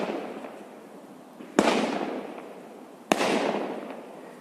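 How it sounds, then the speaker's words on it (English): Fireworks going off outdoors, two sharp loud bangs about a second and a half apart, each followed by a long rumbling echo that fades over a soft background hiss. "I've got some fireworks going off as well now."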